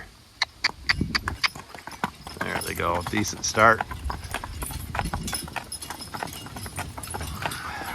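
Hooves clip-clop in a steady rhythm as a young team of Belgian horses pulls a cart off, with someone speaking over them and some rattling.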